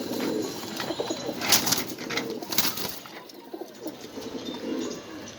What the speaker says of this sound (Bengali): দেখেন আরেক জোড়া কবুতর,